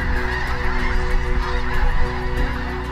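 A large flock of snow geese honks during a goose hunt, a dense and continuous chorus of overlapping calls that is loud and fills the whole stretch without any talk.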